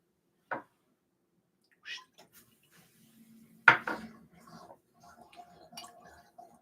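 Glasses of bourbon being mixed together: a few light clinks of glass spaced apart, then a louder knock and brief liquid-and-glass clatter, close and quiet with no talking.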